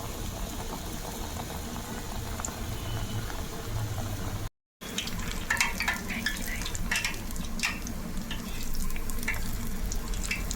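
Chicken chilli garelu fritters frying in hot oil, a dense bubbling sizzle with crackling pops, close and continuous apart from a brief break.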